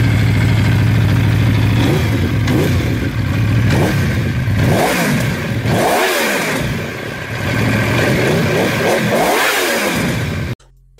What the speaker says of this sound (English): This gives the engine a steadier screaming exhaust note.